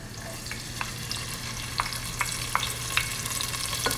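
Onion and garlic sauté in a pan for a Catarina-style risotto, giving a soft steady sizzle with scattered sharp pops and crackles as a wooden spoon stirs them.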